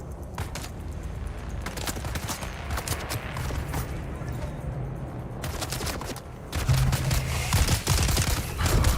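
Loud, rapid gunfire at a scavenger camp in the survival game Dune: Awakening, sustained volleys of shots that rattle continuously and grow heavier and louder near the end.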